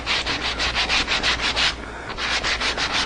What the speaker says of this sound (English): the only reason I'm sanding that little edge off right there